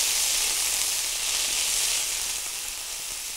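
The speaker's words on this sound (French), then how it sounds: "je vais juste venir déglacer un petit peu avec du vin blanc. Et là, ça chante. Notre oignon chante." Onion sizzles loudly in a pan just after it is deglazed with white wine, giving a steady, close, bright hiss that barely changes across the short stretch.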